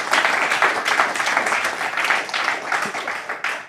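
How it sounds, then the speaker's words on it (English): Audience applause for four speakers at a data and AI meetup on geospatial data, dense steady clapping from a room full of people that holds for several seconds and fades slightly near the end. "if we can get a round of applause for each of the 4 speakers"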